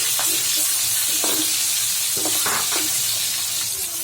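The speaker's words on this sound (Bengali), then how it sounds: "এখন আমি দিয়ে দিব নুন হলুদ মাখায় রাখা মাছগুলো।" Silver carp pieces rubbed with salt and turmeric fry loudly in hot oil, giving a steady dense sizzle throughout with occasional stirring scrapes and no talk.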